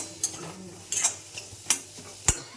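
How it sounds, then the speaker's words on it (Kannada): Onions fry in oil on a low flame in a home kitchen, a soft, faint sizzle broken by a few sharp clicks as a spoon stirs the pan. "ಇದನ್ನು ಸಣ್ಣ ಉರಿ ಮೇಲೆ ಫ್ರೈ ಮಾಡ್ತೀನಿ"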